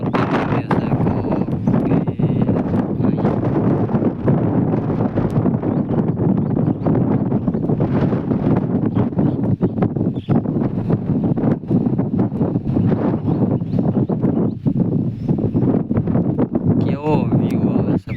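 Strong wind blows through neem trees beside a cotton field, a constant rough buffeting roar that lasts throughout, with a voice speaking over it.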